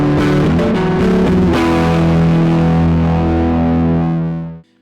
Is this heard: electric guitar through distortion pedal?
yes